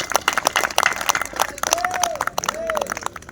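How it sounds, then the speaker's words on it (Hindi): Audience at a Hindi poetry recital claps and cheers in a dense, steady burst of applause with crowd noise, continuous throughout at close range. "ताली बजा दो यार।"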